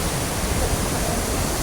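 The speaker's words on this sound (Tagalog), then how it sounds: "Waterfall." A waterfall along Jiufen Old Street in Taiwan rushes as a steady, loud, dense roar, close by and unbroken, with no voices over it.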